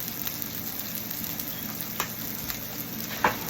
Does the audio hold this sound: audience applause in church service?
no